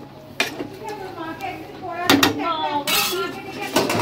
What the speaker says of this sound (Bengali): এখন একটু নাড়িয়ে দিই এটাকে।